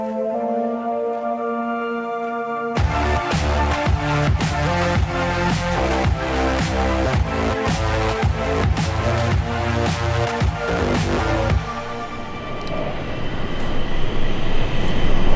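A Stockholm metro blue line train at Akalla station rolls along the platform with loud rhythmic wheel clatter and rumbling motor hum, then fades to a quieter station ambience.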